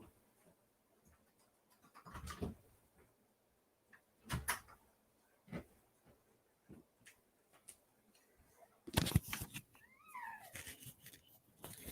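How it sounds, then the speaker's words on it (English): A house cat meows near a door, in short, separate calls spread across the stretch, with a longer whining call near the end and some knocks and rustles between them. "I got to let my cat out."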